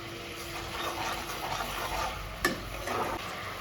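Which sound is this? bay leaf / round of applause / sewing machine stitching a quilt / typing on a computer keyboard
bay leaf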